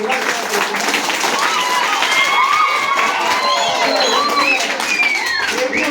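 An Independence Day gathering breaks into dense applause and cheering, many hands clapping with shouting voices, including children's, loud and sustained, with a speaker's voice mixed in.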